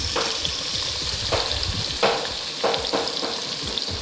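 Finely chopped onions sautéing in hot oil in a pan for prawn biryani, a steady bright sizzle with periodic bursts as a spatula stirs them, close and continuous with no voices.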